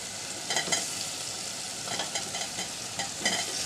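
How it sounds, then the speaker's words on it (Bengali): Sliced ridge gourd hitting a hot pan for a masoor dal vegetable dish, giving a steady, moderately loud sizzle with small crackling bursts as the pieces settle and are stirred. "এবার দিয়ে দিচ্ছি ঝিঙ্গা"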